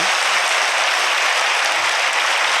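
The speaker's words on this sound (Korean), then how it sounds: "역시 박수로 격려해 주시기 바랍니다" Steady applause from a church congregation at a baptism service, dense and continuous clapping filling the room without a break.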